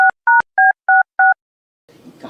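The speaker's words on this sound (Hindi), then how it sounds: "अभी मिलाऊं फोन।" Telephone keypad tones as a number is dialed: five crisp, evenly spaced dual-tone beeps, loud and close, followed by a faint murmur of ringing or line noise at the end.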